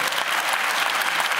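Dense applause from a concert audience at a children's violin ensemble show, steady and loud with sharp overlapping claps filling the whole moment, no voices standing out.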